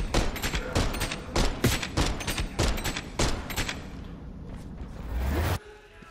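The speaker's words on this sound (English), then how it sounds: "You just let that guy shoot the shit out of me." Rapid bursts of gunfire from a Call of Duty Black Ops 6 match crack out in quick volleys over roughly five seconds, loud and close, followed by a steady rumbling hum before a sudden drop-off.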